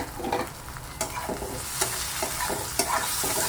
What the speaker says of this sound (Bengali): কাঁচা লঙ্কাগুলো একটু নেড়ে চেড়ে নেবো।